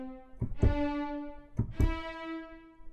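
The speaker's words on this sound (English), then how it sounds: "Tenuto is more of a stressed sound." Orchestral strings play two accented, held notes, each with a firm attack that sustains fully before the next; no voices.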